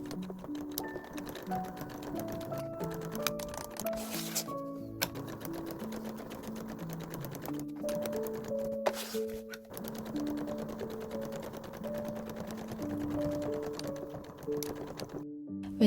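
Sewing machine stitching a zipper pocket onto the right side of a bag lining, sewing the sides and bottom 0.5 cm from the edge; steady motor whir with stitching bursts and short pauses, close and continuous, no talk.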